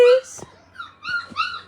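Puppies whimpering and crying outside a kitchen window, a few short high whines and yelps close by, with brief gaps between them.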